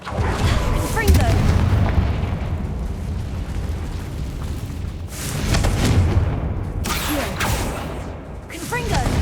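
Confringo blasting spell explosions in the Hogwarts Legacy video game, a loud run of booming bursts with crackling debris, a few separate blasts in close succession, with voices over them.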